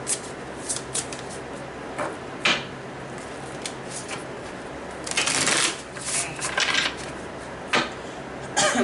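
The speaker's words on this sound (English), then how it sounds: "I want to reshuffle again because that was messy" A slippery deck of playing cards being shuffled, with several bursts of riffling and bridging, close and clear, separated by short pauses of handling noise.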